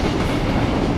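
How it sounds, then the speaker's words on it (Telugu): Simulated train running on rails in Train Simulator Classic, an Indian WAP4 locomotive hauling coaches at speed, a steady loud rumbling roar of wheels with faint clickety-clack, continuous and close. "మన ట్రైన్ స్పీడ్గా వెళ్ళిపోతుందంట"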